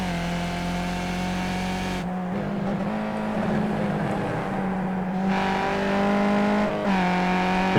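A Skip Barber race car in the iRacing simulator at Zolder, its engine droning steadily at high revs, dipping briefly on a gear change and then climbing again under full throttle, close and loud with no talk.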